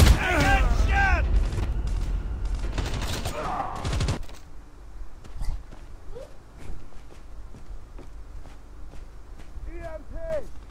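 Call of Duty multiplayer gunfire, with scattered shots and distant bursts amid in-game announcer voices and shouting, the firing fairly faint and intermittent under the talk.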